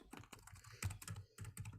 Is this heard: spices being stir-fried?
no